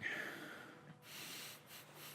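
A voice imitates a creature sniffing during a tabletop role-playing game: a few close, breathy snorts and sniffs, heard alone with no talk.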